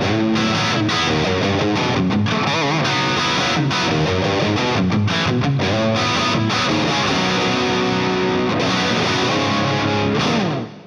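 Electric guitar plays a run of loud, busy licks without the Rocktron distortion pedal engaged, notes continuous for about ten seconds before stopping.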